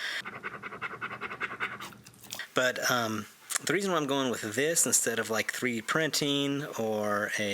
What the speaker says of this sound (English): You may hear my dog panting behind me.